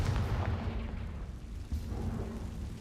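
Confringo fire spell explosion in Hogwarts Legacy, a deep rumbling burst with a low, booming tail that rolls on steadily for a few seconds.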